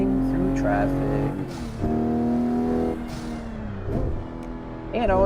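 A car weaves through traffic in a racing simulator game, its engine rising in pitch through the gears, then dropping at each shift, with the revs surging again toward the end.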